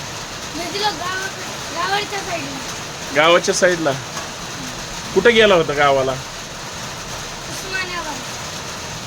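Continuous rain falling during summer in Pune, a steady even hiss of wide wash heard close by, with people chatting over it in short spoken exchanges.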